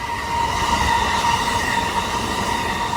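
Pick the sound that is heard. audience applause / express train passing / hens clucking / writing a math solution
express train passing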